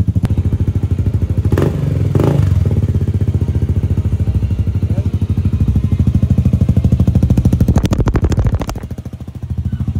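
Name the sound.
motorcycle with carbon exhaust pipe revving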